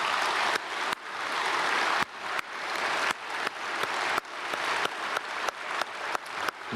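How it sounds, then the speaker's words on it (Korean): Church congregation at a Sunday worship service applauding together to welcome newly registered members, a dense, steady clapping from a large crowd that swells and fades in several rolling waves, with no talking over it. "우리 크게 박수로 환영하겠습니다"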